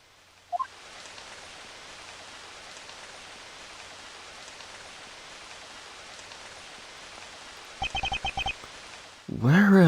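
Steady, even rain hisses throughout a scene in the Ace Attorney Investigations video game, with a few brief game blips and sound effects partway through and at the end.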